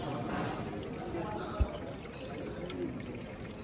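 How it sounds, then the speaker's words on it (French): Water streams steadily over the bodywork of a Pista on a Protec stand at a motor show, a continuous pouring wash under a busy crowd hum with a brief thud midway. "de l'eau qui coule sur la carrosserie pour montrer, j'imagine, les protections qui ont été apportées sur cette pista"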